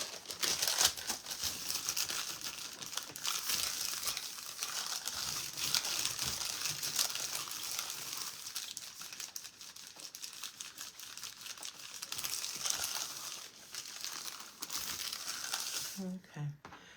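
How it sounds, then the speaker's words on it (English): Paper wrapped around fabric crinkles and rustles in continuous close, dense bursts while being handled, with a person talking intermittently over it. "I hope this crinkling part is only on the paper, not on the"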